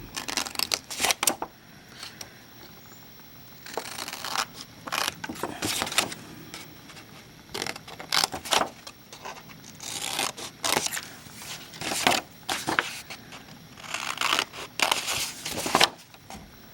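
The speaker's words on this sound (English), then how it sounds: "I'm going to go in and trim these corners off." Scissors trim the corners off a Michaels corrugated card tag, giving a close, repeated series of crisp snips and cardboard rustles in an uneven rhythm, with no talking.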